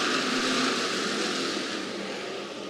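IMCA race cars roar around the Clay County Speedway clay track at the Summer Nationals, a dense, steady wash of engine noise with a faint high whine, loud and sustained throughout with no talk.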